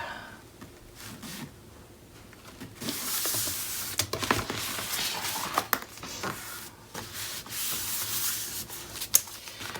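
Excess glue is rubbed off the paper of a Graphic 45 mini album, a steady dry scrubbing and sanding texture that runs close up and alone, growing louder and busier partway through.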